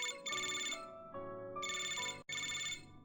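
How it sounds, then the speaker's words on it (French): A bright electronic phone ringtone from the video game Love and Deepspace, a melodic chiming pattern that repeats in phrases with a brief gap, clear and isolated. "Soudain, mon téléphone sonne."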